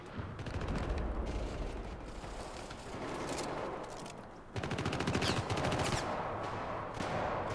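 Gunfire rattles in the video game Syndicate, with sustained bursts of rapid automatic shots and heavy impacts in a loud, continuous firefight.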